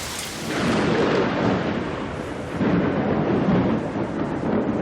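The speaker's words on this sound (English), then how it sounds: "Then he heard thunder that sounded like the angriest, most frightening drum in the world." Rolling thunder rumbles through a storm, a loud, sustained roar over steady rain with no voices.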